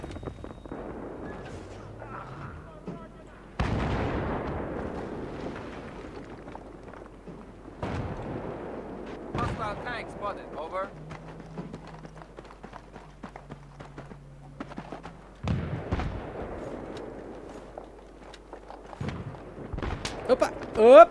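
Tank cannon fire and explosions in Battlefield 3 on PS3: several loud, sharp booms arrive at irregular intervals, each decaying into a rumbling tail, with quieter crackles and gunfire between them and voices talking throughout.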